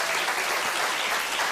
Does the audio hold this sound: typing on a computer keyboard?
no